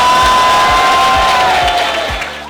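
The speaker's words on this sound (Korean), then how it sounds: "우리 김주원 학생이 다시 한번 큰 박수" Crowd at a student rights debate forum applauding and cheering for a student speaker, loud and close, with whoops and claps that taper off toward the end.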